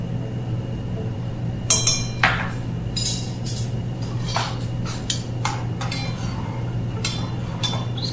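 A spoon stirring curry powder, turmeric and salt in a pot, giving a few sharp metallic clinks and scrapes over a steady low kitchen hum.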